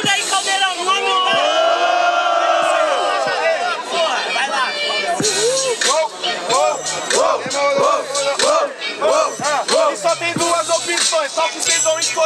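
Loud crowd at a Brazilian student rap battle cheers and shouts in a dense, continuous roar, with whoops and yells, while a host's voice cuts through over the noise.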